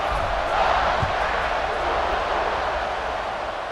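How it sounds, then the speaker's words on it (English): Stadium crowd in College Football 26 roaring in a steady, loud, continuous wash of cheering and noise, sustained throughout with no pauses. "this crowd is feeling themselves after that last drive."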